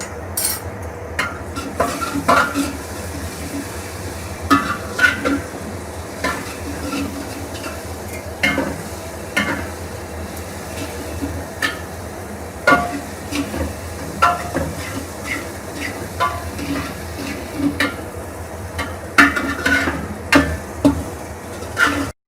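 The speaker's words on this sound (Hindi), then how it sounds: "लहसुन पेस्ट डाल के इसे हम फ्राई कर लेंगे लहसुन को" Garlic paste frying in a pan with a steady sizzle, punctuated by occasional stirring and scraping of a utensil against the pan.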